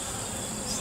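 Honey bees hum inside an opened beehive, a dense, steady close-up buzz that lasts under a second.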